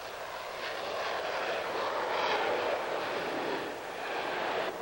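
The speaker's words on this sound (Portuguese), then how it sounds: "As turbinas são colocadas em potência total e, em segundos, nós estamos correndo pela pista." Jet airliner taking off with turbines at full power, a loud steady broadband roar rising slightly as it races down the runway, continuous throughout with no talk.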